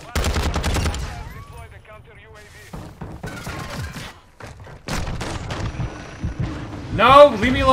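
Shotgun fire in a Call of Duty: Modern Warfare online match, with loud gunshot bursts at the start and later, mixed with game sounds while a player talks over the action.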